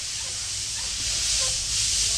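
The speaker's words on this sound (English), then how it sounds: "All that noise when that tensioner flex back up." A worn tensioner pulley on a car engine belt gives off a loud, continuous hissing, grinding whir up close, swelling slightly toward the end as the tensioner flexes back.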